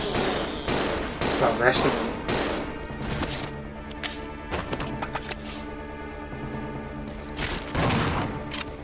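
Rapid pistol gunfire in Resident Evil 0 on hard difficulty, a dense string of sharp cracks that thins into scattered single shots over a low droning game soundtrack, with brief speech.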